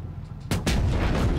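A single heavy tank cannon shot in World of Tanks Blitz booms sharply over a rumbling engine drone, followed by a second close impact or echo.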